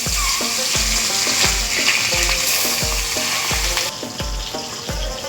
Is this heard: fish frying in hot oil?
yes